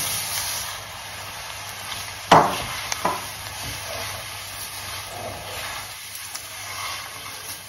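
Turmeric and mint roast gently in a pan over low gas, a soft steady sizzle broken by a couple of clear scraping stirs of a spoon against the pan, close and without talk.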